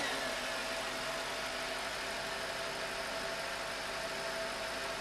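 A 2001 Mercedes-Benz SL500 AMG with a V8 idles smoothly, a low, steady hum with faint even harmonics and no revving, heard alone at a moderate distance.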